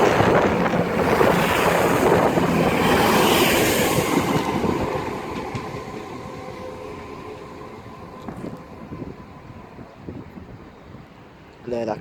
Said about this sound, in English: 1434 Great Western Railway service to Gatwick Airport via Guildford and Red Hill